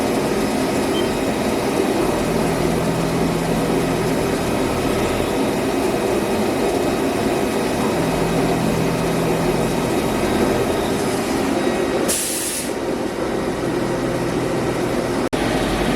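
A CNC machine finishes the outside of jewelry links, a steady loud whirring drone with mechanical hum and a brief burst of hiss near the end, no voices.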